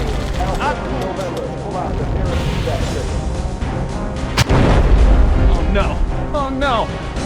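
Dense gunfire and explosions in the first-level battle aboard the Pillar of Autumn in Halo CE, steady and loud throughout, with a sharp blast near the middle, game voices and music mixed in.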